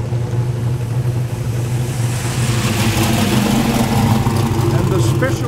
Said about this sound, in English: And there goes the Thunderbird.